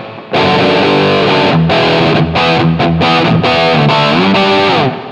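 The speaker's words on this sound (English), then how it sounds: "If we want some real crunch here" Crunchy, heavily distorted electric guitar played through a POD GO amp preset, loud sustained chords and riffs ringing out alone with brief gaps between phrases.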